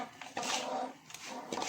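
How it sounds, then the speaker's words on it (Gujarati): Close, quiet scraping and clinking as rava laddu ingredients are stirred together in a pot, a few short rubbing strokes with pauses between. "આ રીતે હવે આપણે બધું સામગ્રી મિક્સ કરી દઈશું."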